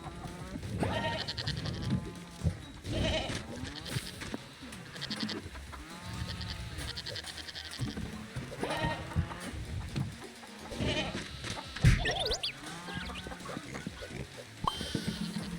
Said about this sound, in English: Oh, you little crafty goat. You're a nuisance. You're a nuisance,